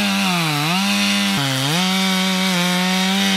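A chainsaw making a plunge cut into a tree trunk wider than its bar, the engine roaring loud and close without pause, its pitch sagging twice as the chain bites into the wood and then recovering.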